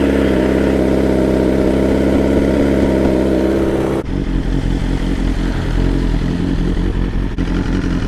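BMW M1000R motorcycle engine running loud and close, a steady dense roar for about four seconds that then drops to a rougher, choppier idle with uneven pulses.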